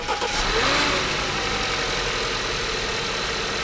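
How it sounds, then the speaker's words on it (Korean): An Audi A7 gasoline engine idles steadily after an oil change, with its rough shaking reduced, producing a close, even mechanical hum and rumble with a slight rise in the first second. "진짜 가솔린 엔진 소리예요."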